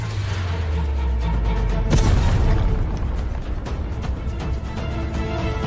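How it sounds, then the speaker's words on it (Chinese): A rocket launcher blast in an animated fantasy series erupts as a dense, loud rumbling boom with a sharp peak and a sustained crackling roar that carries on without speech. "火箭炮准备把它给我轰成渣。"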